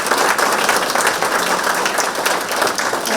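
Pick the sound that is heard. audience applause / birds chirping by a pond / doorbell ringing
audience applause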